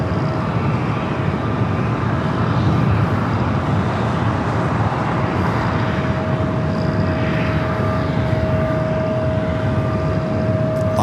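Airbus A330 jet at LAX heading for the south side, a continuous broad engine rumble with a thin steady whine held throughout, moderately loud and unchanging, without any voices.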